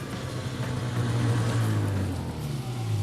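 A snowmobile-type vehicle crossing the frozen Lake Pielinen in Finland on thick ice, its engine droning steadily up close with slight swells of throttle, alone without talk.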